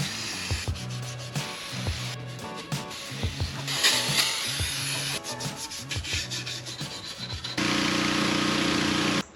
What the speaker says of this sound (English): Now I'm taking off these little spark plug gaskets